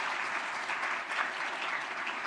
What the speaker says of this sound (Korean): 박수로 한번 환영하겠습니다